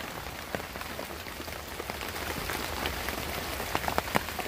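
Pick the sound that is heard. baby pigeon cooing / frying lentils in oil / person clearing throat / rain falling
rain falling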